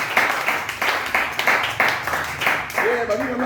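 A church congregation claps in rhythmic bursts of acclaim at a French-language worship service, roughly two claps per second, with voices mixed in and a singing or calling voice rising near the end.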